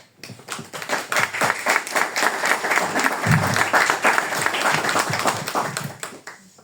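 An audience at a book presentation claps warmly, individual hand claps distinct within a lively, swelling round of applause that builds and then tapers off near the end, with a brief murmur of voices partway through.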